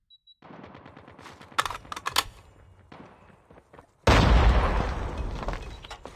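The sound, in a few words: Switchblade gun firing in Call of Duty Mobile video game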